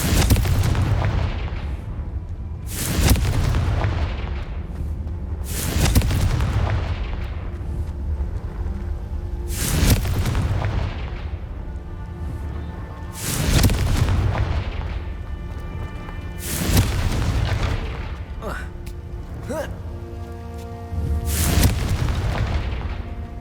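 Repeated Confringo fire spell explosions from Hogwarts Legacy gameplay on PC, about seven heavy booming blasts at roughly three-second intervals, each with a rumbling tail and faint game ambience between them, no talk.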